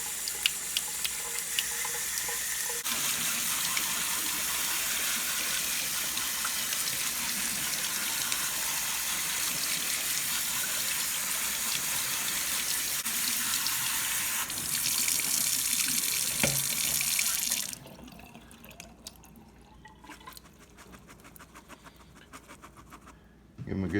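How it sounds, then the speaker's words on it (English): A steady gush of cool tap water rinsing elderberries in a fine mesh strainer, splashing into a sink for most of the clip, then it stops, leaving quiet drips and faint rustling. "we put them in a fine mesh strainer and we just rinse them with cool water"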